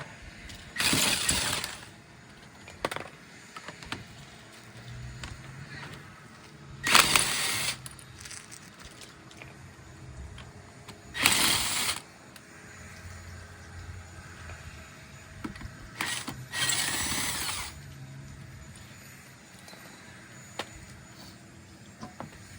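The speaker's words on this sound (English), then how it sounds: "now I can take my impact gun and just zap them off" An impact gun zaps lug nuts off a car wheel during a tire rotation, giving four loud buzzing bursts of about one second each, spaced several seconds apart against quiet garage background.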